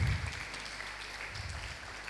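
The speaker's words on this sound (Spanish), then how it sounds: "Dale un aplauso al Señor, aleluya." Church congregation clapping during a Spanish-language sermon, a soft blended patter of many hands with a low rumble at the start, fairly faint and steady.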